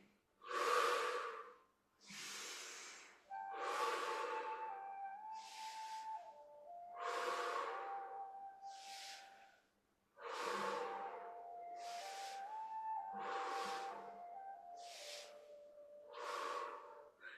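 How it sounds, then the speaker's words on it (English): Slow deliberate breaths during a qigong exercise, about ten soft breathy inhales and exhales in an even rhythm, close and quiet, with a faint tonal hum running underneath. "Breathing in and out."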